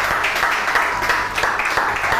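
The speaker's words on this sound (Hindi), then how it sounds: "तालियां होनी चाहिए जी।" A studio audience claps briefly on a television beauty segment about hair colouring, a dense, close burst of applause lasting a couple of seconds with speech mixed in.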